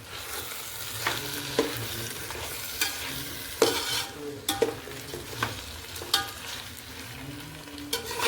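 Rice being sautéed in a pan for chicken biryani: a soft steady sizzle with repeated scrapes and knocks of a spoon against the metal, close and fairly loud.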